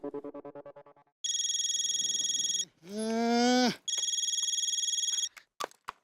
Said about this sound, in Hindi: मोबाइल पे बजी घंटिया